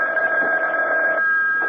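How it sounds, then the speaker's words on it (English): A telephone in a radio mystery drama gives a steady electronic ring, a sustained bright tone heard clearly and alone for under two seconds, with no talk over it. "Reuben, aren't you going to answer the phone?"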